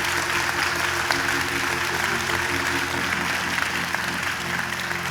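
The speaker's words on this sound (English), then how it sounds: "Clap your hands like you love him." A church congregation claps together in steady, dense applause that fills the room at a constant level for several seconds, with faint background murmur.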